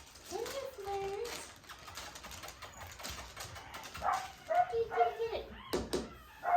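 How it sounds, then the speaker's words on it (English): Corgi puppies at play, yipping, whimpering and barking in quick bursts up close, with sharper yips toward the end; a person's voice briefly talks over them. "Hope you guys enjoyed watching your puppies play a little bit."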